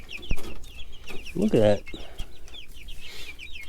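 Young meat chickens raised from incubated eggs cluck and chirp steadily in a coop, with one louder, near squawk midway and a brief spoken remark over the flock.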